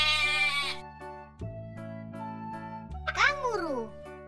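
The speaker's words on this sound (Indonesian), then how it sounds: "Kambing." A cartoon goat bleats once with a wavering, quavering cry near the end, over steady background music in a children's animal-sounds animation.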